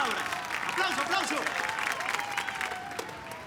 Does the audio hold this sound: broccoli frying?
no